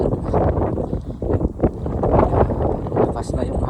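Strong wind buffets the microphone outdoors in a steady, loud, rumbling roar that swells and dips throughout.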